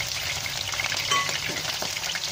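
Shrimp go into a hot frying pan and burst into a loud, steady sizzle, a dense hissing crackle that fills the scene close up while cooking mee kuetiau ladna, with no talking over it.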